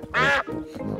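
Mrs. Duck, a cartoon duck in a children's animated show, lets out one loud, drawn-out quack near the start, followed by softer, lower mumbling sounds that could be background dialogue or grunts.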